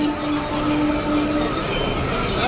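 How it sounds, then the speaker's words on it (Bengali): A crowded local train travelling towards Tarakeswar station gives a loud, continuous rolling rumble with a steady whine and rattling carriage noise throughout. "আমরা এখন ট্রেনে করে যাচ্ছি তারকেশ্বর স্টেশন"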